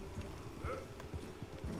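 A short run of horse hoofbeats, soft, regular clip-clops at a walking or trotting pace, moderately close.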